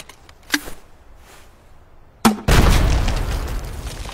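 An 80mm M203 explosive detonates in the video game ULTRAKILL: a short pop, then a second sharp blast that swells into a loud, sustained roaring boom filling the rest of the moment.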